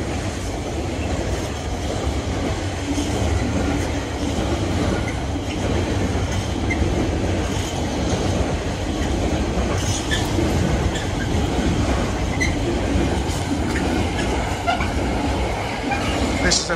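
A freight train rumbles past close by at Syston over a 40 mph crossover for the whole stretch, wheels clacking and occasionally squealing, with someone talking over the steady roar.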